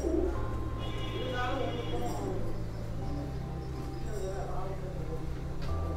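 Fancier pigeons coo softly in a Coimbatore loft, low repeated murmuring calls under steady background noise and someone speaking in Tamil.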